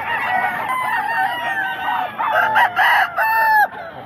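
Roosters at a Bocaue flea market crow loudly and close by, several long overlapping crows rising and falling. Near the end come a few sharp, choppy calls, with a background of other fowl.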